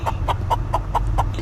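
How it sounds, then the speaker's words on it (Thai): A hen clucks on a farm at sunrise, giving six short, evenly spaced clucks, close and clear over a low background rumble. "เสียงนกร้องตามมาด้วยเสียงแม่ไก่"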